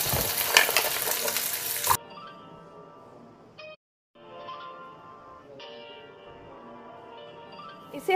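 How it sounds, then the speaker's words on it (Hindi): Coconut frying in oil in a kadai, a loud dense sizzle for the first two seconds, then a quieter stretch of faint clinks and soft tones with a brief gap. "अब हम इसमें नारियल को फ्राई कर लेंगे थोड़ा।"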